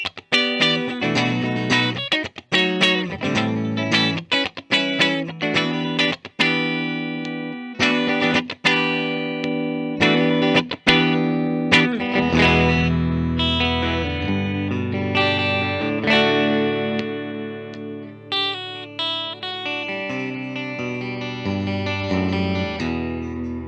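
A 2021 Alex Lifeson Epiphone Les Paul Standard Axcess electric guitar, with both pickups coil-split for a clean tone, plays strummed chords and picked single notes, steady and fairly loud, with some chorus-like shimmer and no talking.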